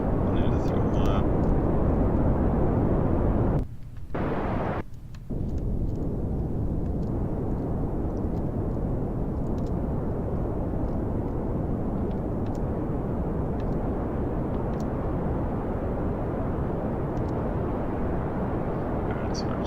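Steady roaring drone of an aircraft engine in Kerbal Space Program, loud and continuous, briefly dropping twice near the four- and five-second marks before resuming at full strength; someone talks over it.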